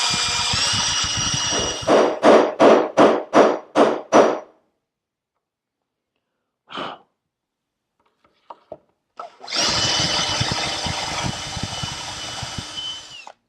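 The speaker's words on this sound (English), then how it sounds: "So we'll come in and do a little drilling" A drill bores into a wooden furniture leg to clear a plug mortise, first as a rhythmic run of short pulses, then a pause with a few faint knocks, then a longer steady grinding run near the end.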